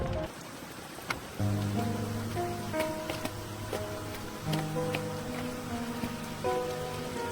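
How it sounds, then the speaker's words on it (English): Heavy rain falls as a steady soft wash of patter behind a gentle musical backing of sustained tones, with scattered louder drips breaking through. "Children, heavy rain is coming."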